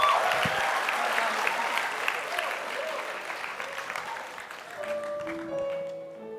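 A concert crowd applauds in a long, dense wash of clapping that slowly fades while a few sustained musical notes emerge near the end.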